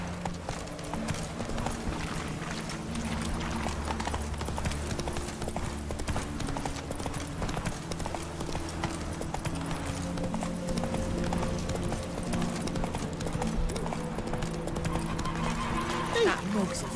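Roach the horse gallops in The Witcher 3 Next-Gen edition, with steady hoofbeats over game music, a neigh near the end, and talk layered in the mix.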